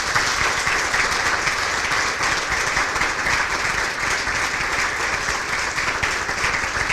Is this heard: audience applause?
yes